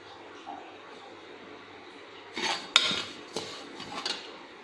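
Grated coconut is stirred in a pan over a low flame for coconut barfi, a quiet scrape and clink of a spoon against metal in a few short bursts over soft background hiss, with no talking.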